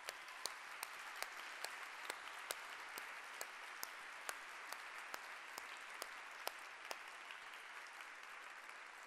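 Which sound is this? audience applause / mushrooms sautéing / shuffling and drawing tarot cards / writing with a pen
audience applause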